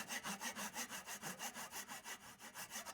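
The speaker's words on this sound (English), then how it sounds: "I use my little Japanese dovetail saw" A small Japanese dovetail saw cuts through wood held in a vise, giving a steady rhythm of about six quick back-and-forth strokes per second, close and clear with no talk.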